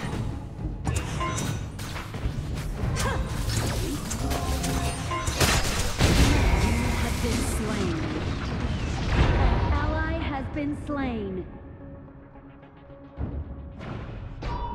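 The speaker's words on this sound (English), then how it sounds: "Your team has destroyed a turret." A turret crumbles amid loud battle effects in Honor of Kings, a mobile MOBA game: dense booms, crashes and mechanical clatter, with a descending falling tone before a brief lull, and game voice announcements over the din.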